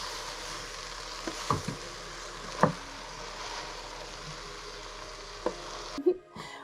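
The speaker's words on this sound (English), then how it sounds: "I'm going to cook these blueberries for about 8 to 10 minutes." Blueberries simmering in a pot on the stove give a soft, steady bubbling sizzle, with a few light knocks and stirs over the top, ending abruptly.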